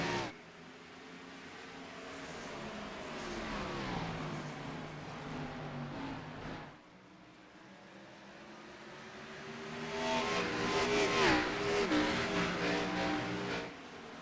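Cup series race cars screaming around a track, engines swelling and fading as the pack passes, then a second loud pass builds near the end.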